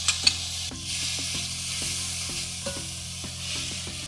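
Garlic, mushrooms and onions sizzling in butter in a pan, a steady hiss broken by repeated scraping clicks of a spoon stirring, close and clear with no talking.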